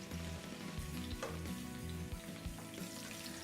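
Kale stems sauté in a hot pan, giving a steady, soft sizzle with faint rhythmic scraping from stirring. It is quiet and continuous, with no talking.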